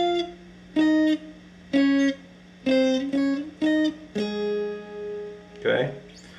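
An electric guitar picks a short octave riff from a song. About seven plucked notes come at a moderate pace, the last one ringing longer, followed by a brief vocal sound at the end.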